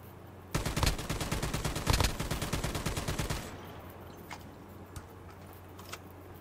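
Rapid automatic gunfire from a COD Mobile battle royale fight, a dense loud burst of shots lasting about three seconds, then a few faint scattered distant shots over quiet background.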